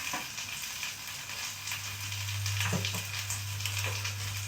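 Tomatoes frying in a pan alongside an English breakfast of sausage, mushrooms and beans, giving a steady close sizzle with a constant low hum underneath and a few brief clinks, no voices.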